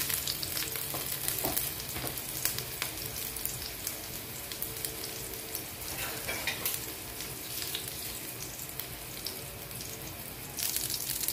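Garlic frying in a little cooking oil for ginisang patola, a continuous close sizzle and crackle with occasional stirring clatter and no talk.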